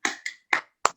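Class clapping the 'tepuk semangat' chant rhythm in a teaching session, four sharp, close claps in an uneven pattern with short gaps, each crisp and bright.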